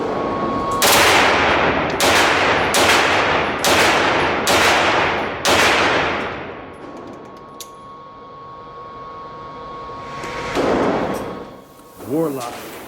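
Warlock gun firing Tula ammo: a string of about six loud, evenly spaced gunshots with ringing decay, followed by a quieter gap and then someone speaking.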